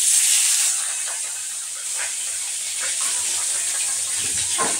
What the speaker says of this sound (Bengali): দুপুরের জন্য মাছ রান্না করছি